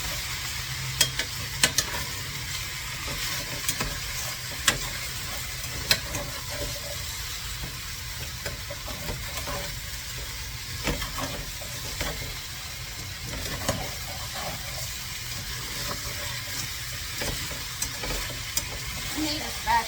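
Hash frying in a pan gives a steady close sizzle, while a spatula scrapes and stirs the bottom in frequent small clicks and scuffs throughout.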